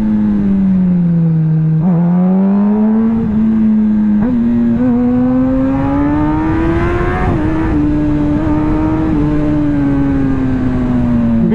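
Kawasaki ZX10RR sport motorcycle with four-cylinder power and lightweight wheels, heard while riding as a loud, steady engine tone that rises and falls through the gears with brief shift dips, close and continuous throughout.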